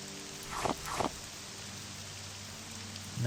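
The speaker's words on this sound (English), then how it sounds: "Oh, we swapped the ash storm for the rain." Steady rainfall in Morrowind, an even hiss from start to end, with two short rustling bursts early on and a louder swell at the very end.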